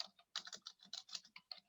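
Typing on a computer keyboard, quick uneven bursts of close, crisp key clicks with brief pauses between runs.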